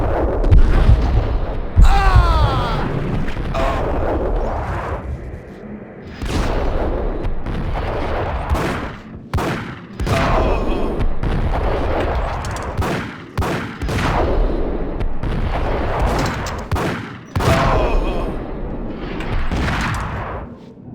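Gunfire in Max Payne rattles out as repeated loud shots and booming bursts, some rapid and machine-gun-like, spread across the stretch with short pauses between volleys.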